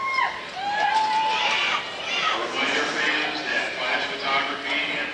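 Murmuring crowd chatter fills an indoor swimming and diving venue at a girls' state finals meet, a steady diffuse hum of many voices with a few brief louder calls.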